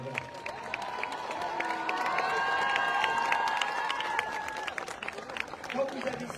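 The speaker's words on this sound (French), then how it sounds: "on va déjà, cher public, vous applaudir pour votre magnifique carrière" A crowd applauds and cheers for the final torchbearer as the Olympic flame arrives in Reims. The clapping stays steady and full for several seconds and then thins out, with a few raised voices and a whistle rising above it.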